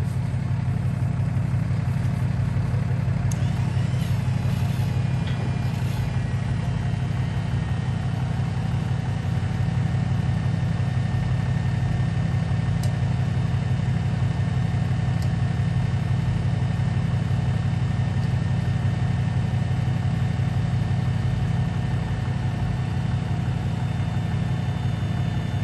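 A vehicle engine runs steadily while pulling a grain bin down during a bin move, a continuous loud low rumble with no change in pace throughout.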